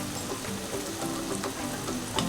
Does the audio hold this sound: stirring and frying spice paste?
yes